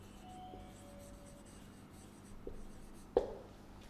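Someone writes on a board with faint, soft scratching strokes, closing with a sharper tap near the end in a quiet room.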